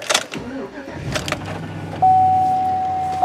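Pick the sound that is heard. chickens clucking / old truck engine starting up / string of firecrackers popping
old truck engine starting up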